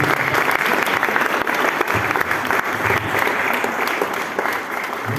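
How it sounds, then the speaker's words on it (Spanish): An audience applauds at a book presentation, loud, continuous, dense clapping from a full room that holds steady across the whole stretch and fades slightly only at the end. "Aplausos, aplausos."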